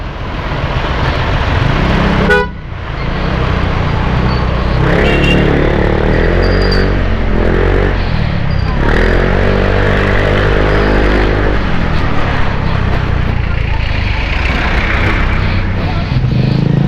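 Heavy street traffic in Deparo, a dense loud rumble of engines with vehicles passing close, one sharp knock early on and a steady roar throughout, while someone talks over it.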